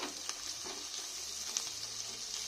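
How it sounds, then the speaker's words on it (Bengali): Spices sizzling and frying in oil in a pan for katla posto, a steady crackling hiss with a few soft stirring scrapes, no talk. "দিয়ে আমি ভালো করে সব মশলাগুলো কষে নেব।"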